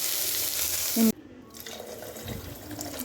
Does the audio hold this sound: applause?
no